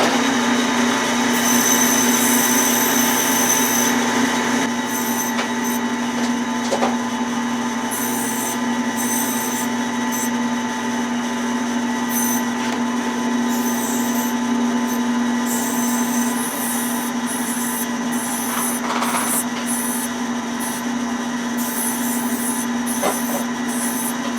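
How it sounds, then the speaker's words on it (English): Guitar fret ends are ground on a grinding wheel, producing a loud continuous whirring hum with a steady high whine and intermittent bursts of harsh grinding contact. "I'm just going to take all of them and grind them down, grind the ends down to a nice little hemisphere on the wheel."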